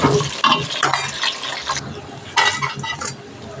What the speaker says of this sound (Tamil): சின்ன வெங்காயம் சேர்த்து கொஞ்சம் நல்லா கிளறி பொன்னிறமாக வரட்டும்